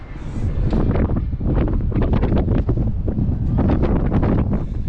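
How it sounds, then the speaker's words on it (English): Strong wind buffets the microphone in continuous low roaring gusts at a high lookout above Quito, Ecuador, loud and close throughout. "Very windy."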